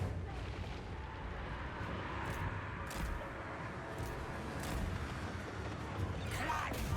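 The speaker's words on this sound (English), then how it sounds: "And mortar shots, too." Mortar shots in a Total War: Warhammer 3 battle, a dense run of booming blasts and sharp bursts layered over a continuous rumbling battlefield roar, with several loud cracks standing out.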